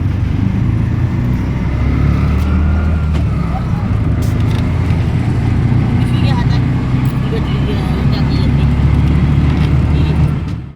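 A steady engine rumble and road noise fill the ride, with traffic sounds around a moving auto rickshaw heading from a hotel to Pandharpur; people talk faintly under it.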